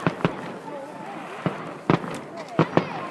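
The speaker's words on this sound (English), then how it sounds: "Now that's a firework." Fireworks bursting on Bonfire Night: about six sharp, loud bangs and crackling pops arrive in irregular pairs over a low background hiss, with people talking and exclaiming around them.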